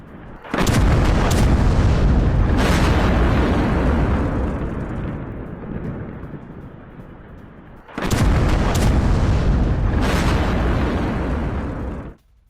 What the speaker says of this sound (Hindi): हिजबुल्लाह के पोस्ट पर आईडीएफ की तरफ से बमबारी, तस्वीरें आपके सामने।